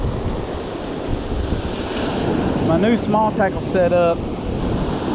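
Heavy ocean surf rolls and crashes onto a beach in rough, red-flag conditions, with steady wind buffeting the microphone throughout; someone speaks briefly over the roar midway.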